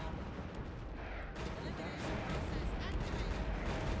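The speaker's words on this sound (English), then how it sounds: "And while your rockets do not deal a whole lot of damage." Rockets fire at a single tower in the Earth 2150 strategy game, a dense, continuous roar of explosive blasts and booms that swells louder partway through.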